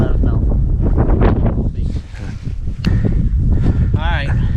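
Strong, cold wind buffets the microphone on a frozen lake during ice fishing, a loud continuous roar with gusty rumble, while people talk briefly over it.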